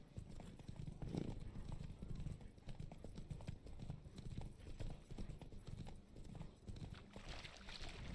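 Roach, a horse in the video game Witcher 3: Wild Hunt, gallops in a steady, rapid clip-clop of hooves, close and continuous, with voices speaking over the hoofbeats.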